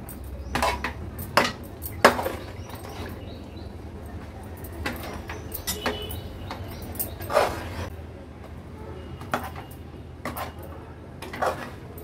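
A spoon scrapes and clinks against a pan while sabudana is stirred with chili powder and cumin. The knocks come close and irregular, with quiet pauses between them.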